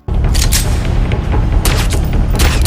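A film gunshot lands as a loud, booming crack with a few sharp bursts trailing over the low rumble, close and without voices.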